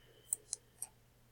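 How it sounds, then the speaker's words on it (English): Three quick, faint computer mouse clicks land in close succession on a search button, crisp and isolated against a quiet room hum. "and then click up here for search"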